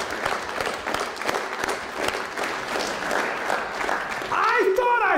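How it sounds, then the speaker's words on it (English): A keynote audience claps hands together in a lively, continuous burst of applause, moderately loud and crowded, with a brief voice cutting in near the end. "everyone that thinks they're a leader, I want you to clap your hands"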